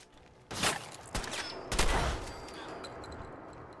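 Shotgun blasts from Fallout 4 gameplay: three loud, booming shots spaced about half a second apart, each with a short rumbling tail, near and alone without talk.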